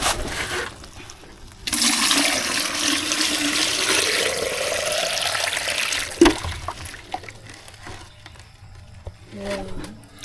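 Water gushes steadily from a tap or hose into a container for farm animals on a farm, a continuous rushing pour lasting several seconds before stopping, followed by a brief knock and faint trickling.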